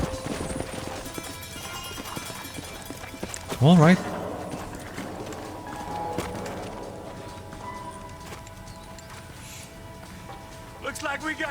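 Horse hooves clip-clop in the Red Dead Redemption video game, a soft running patter under a steady layer of game music and ambience, with a short sharp burst midway and voices briefly speaking.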